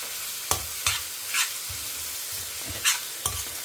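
Raw mango rice mixture sautéing in oil in a pan, temple prasadam style, with a spatula stirring through it: several distinct scraping strokes at an uneven pace over a soft, steady sizzle, close up, no voices.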